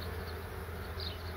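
Honeybees at an apiary on a rural homestead buzz in a soft, continuous drone, faint and steady, with slight swells as individual bees pass closer.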